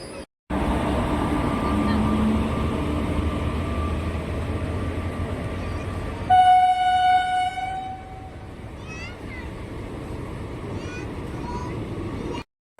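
Passenger train running from Nimtita to Azimganj, with a steady rumble and rattle of the carriages throughout, joined midway by a loud, brief horn-like tone. Talk runs over the ride.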